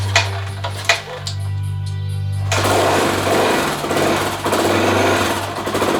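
A Honda XR600R dirt bike with the choke on is kick-started: a low steady hum with a few knocks gives way to the engine catching and running in a rough, loud, close-up thumping roar.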